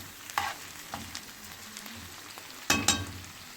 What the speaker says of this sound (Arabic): بعد البصل بتاعنا ما دبل والقوانص استوت شويه نقلبها